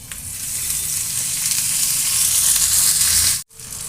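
Green chillies with garlic fry in a spoonful of oil in a pan. A loud, close, steady sizzle crackles throughout, briefly cut off near the end before it resumes, and no one speaks.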